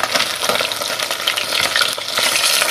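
Fish frying in a pan just after being flipped gives a loud, close sizzle with bursts of crackling and spattering that rise and fall, no talking.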